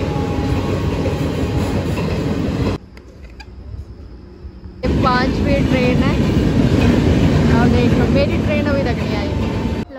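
A train passes at a railway station with a loud, steady rumble and clatter of cars, a brief quieter gap, then the roar resumes with squealing wheels and rattling close by.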